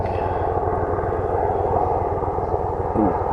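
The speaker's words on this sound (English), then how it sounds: "one helicopter could make that much noise. It's one of those Black Hawks." A Black Hawk helicopter's rotor thumps in a fast, steady rhythm under a continuous engine roar, loud and close overhead, while it rains.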